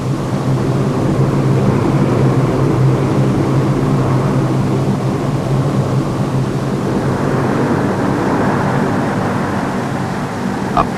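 A plane flies supplies to the South Pole research station. Its engines make a loud, steady, broad drone that holds throughout without a break, and no voices are heard.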